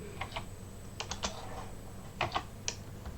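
Keystrokes on a computer keyboard set to the wrong layout while a Linux distribution is being tested, appearing as scattered clusters of quick clicks with short pauses, close and fairly faint over low background hum.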